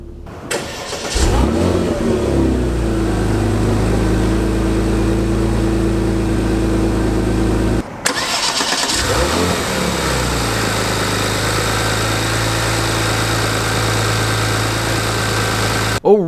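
The twin-turbo 3.6-liter V6 of a 2017 Porsche Cayenne S cranks and fires up, revs, settles into a steady idle, then briefly blips and idles again, close and loud with no talking.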